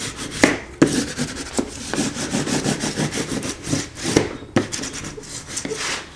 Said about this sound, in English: burnish well